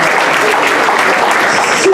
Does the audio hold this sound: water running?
no